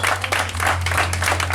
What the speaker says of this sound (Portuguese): uma salva de palmas para Dona Maria Cândida